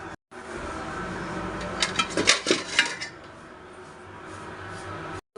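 Clatter of a pot lid and pans in a home kitchen as red sweet potato is set to boil in water, a short burst of metallic clinks and knocks mid-clip over a low steady background.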